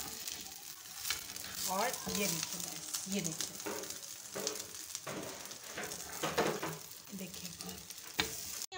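Sweet double bread frying in oil on a tawa, a close, steady sizzle with stirring and scraping sounds, and a voice speaking briefly over it.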